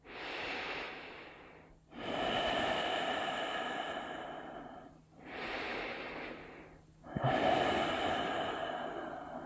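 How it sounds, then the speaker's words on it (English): Three long, loud ujjayi breaths drawn in and out through the nose with lips sealed, each a steady airy rushing with a soft throaty hiss, separated by brief pauses. "we're sealing the lips and we're breathing in and out through the nose"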